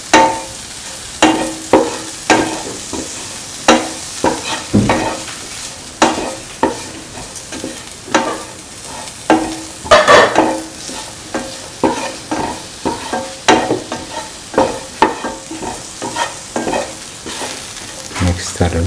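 A spoon stirs bitter gourd tamarind stew in a pan, giving steady rhythmic scraping strokes over a soft sizzle, close and clear with no talking.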